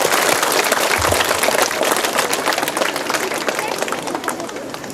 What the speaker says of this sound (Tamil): நல்ல ஒரு தடவை கைத்தட்டுவோமா?